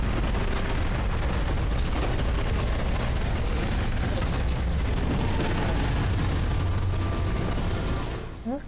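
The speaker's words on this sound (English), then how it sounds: "Let me move away from his orangey explosion-y bits." Continuous rumbling explosions and bursts from the Tomb Raider Legend video game fill the scene loudly and densely, fading at the very end.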